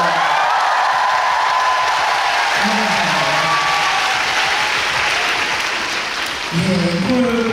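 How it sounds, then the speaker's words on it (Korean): A large crowd at a Busan concert applauds in a full, steady roar with faint cheers, while a voice speaks briefly over it. "박수 한 번"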